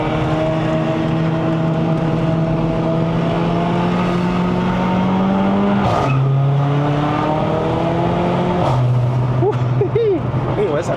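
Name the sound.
Mercedes-AMG CLA45 car driving uphill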